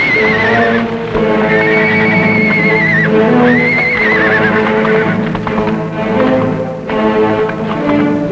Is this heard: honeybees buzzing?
no